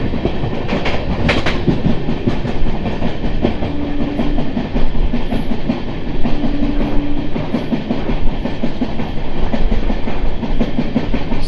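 The 12603 Charlapalli Superfast Express from MGR Chennai Central runs at speed, with a steady loud roar and rhythmic clickety-clack of wheels over rail joints throughout.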